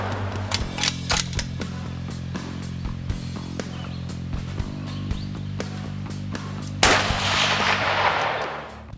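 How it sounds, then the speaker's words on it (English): Rifle gunshots during precision long-range bolt-action shooting: several sharp cracks early on, then one loud blast near the seven-second mark with a decaying tail, over a steady low hum. "Spot your shot and then run the bolt."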